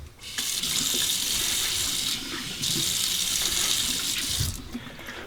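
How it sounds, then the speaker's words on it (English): Hot water gushes steadily from a bathroom tap before a shave, a loud continuous rush that briefly dips in force midway and then runs on alone. "that's some hot water right there"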